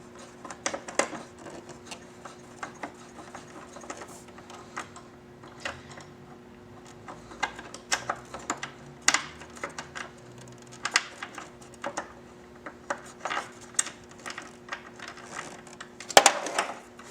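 A socket wrench turns a mirror bolt on a Victory Vision motorcycle, giving faint, uneven ratcheting clicks in scattered clusters, then a sharp metallic clatter near the end as the socket drops.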